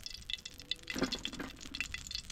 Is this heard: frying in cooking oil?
yes